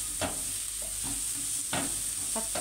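Onion sautés in a pan as the base for Alexandrian-style liver, with a loud, steady sizzle and several distinct spatula scrapes and stirs against the metal.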